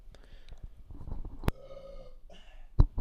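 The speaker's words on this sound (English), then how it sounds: "That was a good burp." A human burp, a short guttural belch among quiet breaths and low voices, with a sharp close burst near the end.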